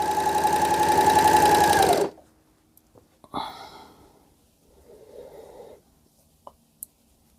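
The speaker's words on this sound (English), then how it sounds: "the first thing you need to do is chain on your Overlocker" An overlocker sewing machine chains on before sewing a fabric tube, whirring in a rapid steady buzz for about two seconds, then stopping, followed by quiet rustles and light handling clicks.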